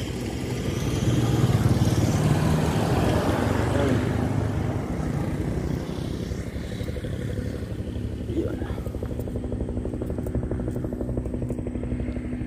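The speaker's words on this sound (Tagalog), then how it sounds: "may helicopter pa doon sa taas" A helicopter flying overhead during a road trip in San Mateo, Rizal, heard as a broad, steady rumbling drone that is loud at first and then eases to a constant background roar.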